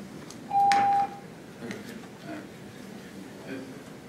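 A short electronic tone sounds once as a speaking-time buzzer at a county commission meeting in Buncombe County, clear and steady over quiet room noise.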